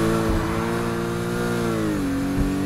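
A Lotus Exige S engine revs in Need for Speed Heat, a loud, close, steady mid-pitched drone that holds, dips as it shifts and keeps pulling.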